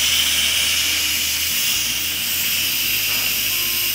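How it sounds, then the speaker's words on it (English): Steam rushes steadily from a pressure cooker's pressure-limiting valve set to the venting position, a loud continuous broadband hiss that holds unbroken with no voices. "move that pressure limiting valve to that venting position, and then let that steam escape"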